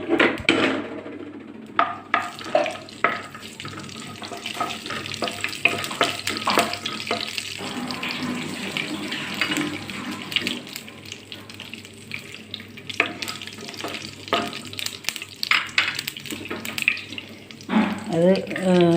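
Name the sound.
whole fennel seeds frying in hot oil for pasta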